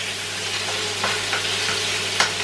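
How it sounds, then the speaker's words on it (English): Steady sizzling of ginger frying in a hot pan, a continuous crackle with a few small pops and light stirring clinks. "ginger is frying up nicely"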